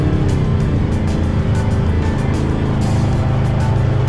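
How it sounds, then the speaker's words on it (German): A car creeps slowly forward into a hole in a dirt track, its engine a steady low rumble throughout with no talking. "Ich fahr mal vorsichtig rein, ich gucke mal."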